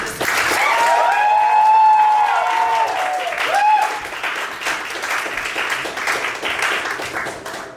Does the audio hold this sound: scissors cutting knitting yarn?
no